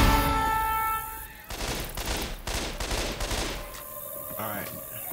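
Rapid gunfire rattles through a Left 4 Dead 2 round, dense overlapping shots in bursts after a sustained game tone, loud and close with brief voices mixed in.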